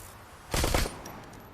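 A single short burst of gunfire from the video game Shadowrun: Hong Kong, a brief crackling shot cluster standing out over quiet game background.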